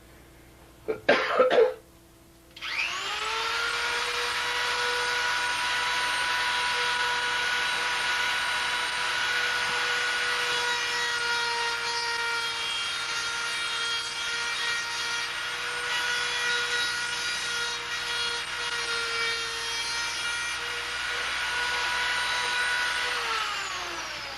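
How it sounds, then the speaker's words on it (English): After a brief knock, a high-pitched Dremel rotary tool whines steadily for over twenty seconds, grinding burrs off letters at close range. "try to get out any big burrs with the Dremel"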